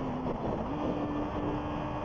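A 2014 Yamaha YZF-R25 twin-cylinder motorcycle engine runs in third gear at about 10,000 rpm near 90 km/h, giving a steady, loud, close droning whine mixed with rushing wind noise.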